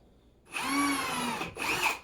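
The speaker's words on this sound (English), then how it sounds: "I'm going to go drill the rest of my holes." A power drill whirs up to a steady high whine for about a second, stops briefly, then spins again, close and alone.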